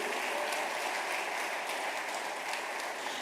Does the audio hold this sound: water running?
no